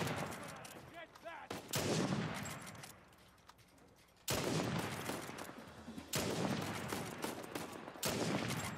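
Loud sniper gunfire in the video game Uncharted 4: A Thief's End, several sharp booming shots each followed by rumbling decay, with a quieter stretch between bursts.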